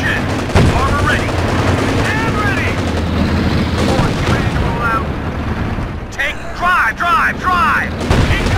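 Company of Heroes 2 battle noise: rapid machine-gun bursts and rifle shots crackle over a steady rumble of explosions and combat, loud and continuous, with shouted voices mixed in.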